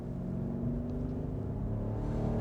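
A BMW Alpina B5 Biturbo with automatic transmission pulls away under light throttle, its engine a steady low rumble heard from inside the cabin, rising gently without any sharp revving.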